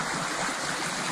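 A river flowing steadily, a dense continuous rush of water heard close and fairly loud with no voices over it.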